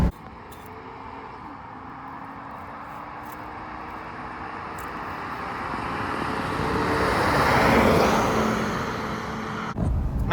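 A Ford Excursion SUV fitted with new tires rolls along a road, giving a steady broadband rumble of engine and tire noise that swells toward the end, then briefly dips and returns, with no talking.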